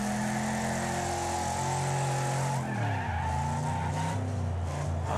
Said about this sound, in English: Oh, the sound of this car though.